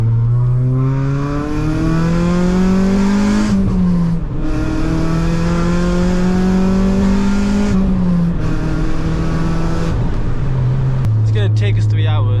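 Honda Civic Type R with a VTEC engine accelerating hard through the gears, loud and close, its engine note rising in pitch with each gear and dropping briefly at every shift over about twelve seconds.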